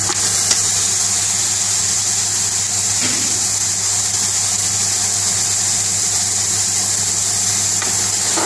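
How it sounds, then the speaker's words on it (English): Meat sizzles and fries in hot oil in a pot for a Bengali-style aloo gosht curry with potatoes, a steady close hiss and crackle with a constant low hum underneath and no talking. "Put the meat in now."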